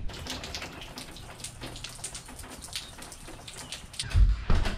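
Steady light rain patters on a surface with faint scattered drips, a soft continuous hiss ending in a few low thumps.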